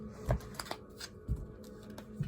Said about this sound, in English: And last shuffle for Pisces.